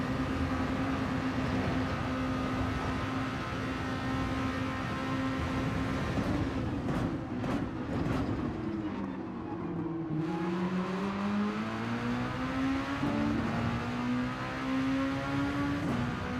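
A race car in Gran Turismo 7 drones continuously at high revs, pitch dipping and climbing through shifts and cornering, with a few short bursts of other cars, steady and loud without talk.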